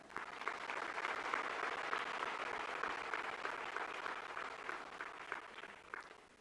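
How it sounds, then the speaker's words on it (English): A conference audience gives a round of applause welcoming the President of India at an annual general meeting, a faint, sustained wash of many hands clapping at a distance, easing off toward the end. "May I request all of you to welcome the President of India with a round of applause"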